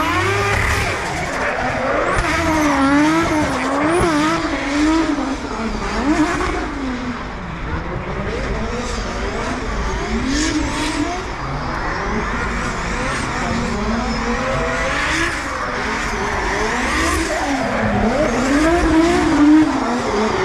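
Race cars circulate at the Mondello Park circuit during an event, engines droning and tyres squealing in a continuous, loud wash with no clear breaks.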